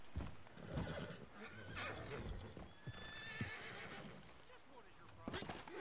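A horse whinnies and snorts amid clip-clopping hooves and ambient noise in Red Dead Redemption 2, with voices talking faintly in places.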